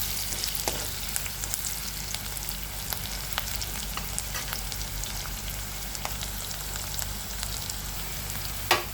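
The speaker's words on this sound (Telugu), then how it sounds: "కొంచెం సాల్ట్ వేద్దాం ఆనియన్స్ అనేది తొందరగా ఫ్రై అవుతాయి అన్నమాట సాల్ట్ వేస్తే" Sliced onions with salt fry steadily in a hot pan, a dense, even sizzle running throughout with occasional sharp pops and a soft clink near the end, no voices.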